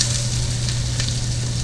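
Vegetables sauté in olive oil in a hot sauté pan, making a loud, close, unbroken sizzle with a faint hum underneath.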